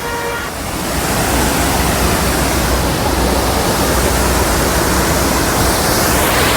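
A monsoon waterfall in Nainital roars as a steady, dense wash of falling water, loud and unbroken, with no voices over it.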